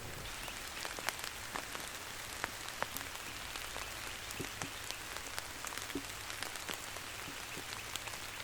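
Soft rain falls through the woods during spring turkey season, a faint continuous patter with scattered sharper drips landing on nearby surfaces, quiet and steady with no voices.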